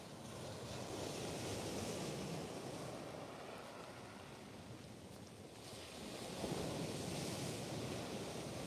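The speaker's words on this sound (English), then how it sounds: "It's picked up here, windy still, but at least there's blue skies." Strong wind buffets the microphone on the coast during sea fishing, a loud continuous roar with waves washing in the background and gusts swelling and easing.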